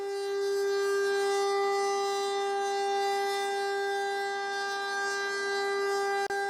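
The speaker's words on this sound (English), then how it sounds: "the STH, or Single Tone High, 10-horsepower siren" A single steady Federal Single Tone High 10-horsepower civil defense siren blares continuously at high volume, unwavering pitch with rich overtones, sounding alone without voices.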